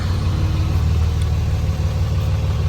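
Dodge Cummins diesel pickup truck engine running steadily, a strong continuous low rumble with even drone close by, no voices.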